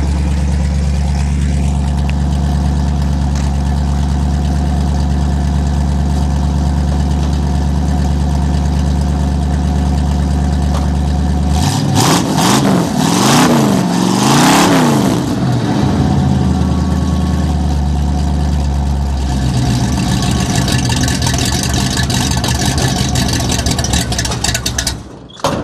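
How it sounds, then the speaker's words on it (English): A cold 1979 Ford F150 on 44-inch tires with a stout motor, loud close idle with a deep steady rumble, then several rising and falling revs midway before settling back to a rough idle. "set my camera on the ground and rev it up for you"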